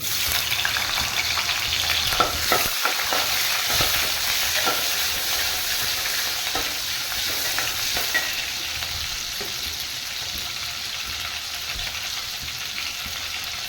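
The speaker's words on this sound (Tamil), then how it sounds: "எண்ணெய் காஞ்சிருச்சு சின்ன வெங்காயம் தட்டி வச்சதை போட்டுக்கலாம்" Crushed shallots hiss loudly in hot oil for a Tamil chicken pepper gravy, a dense, continuous sizzle close by with a few scraping stirs of a spoon through the pan.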